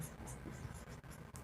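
Pen or chalk writing on paper or a board during a physics lesson on Coulomb's law: a short, faint, close scratching with small strokes and brief pauses.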